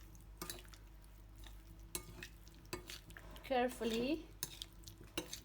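Boiled potatoes for a Lebanese potato salad being mixed with olive oil in a bowl, giving soft, intermittent stirring and scraping close by, with a brief spoken word in the middle.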